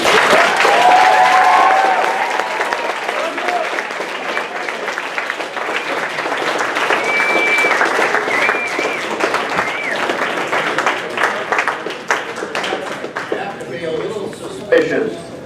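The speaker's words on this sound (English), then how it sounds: "Of a crowd that applauds because somebody was arrested 8 times" A ceremony crowd gives sustained, loud applause for a World War II veteran, with dense clapping filling the room and tapering slightly toward the end amid some cheering.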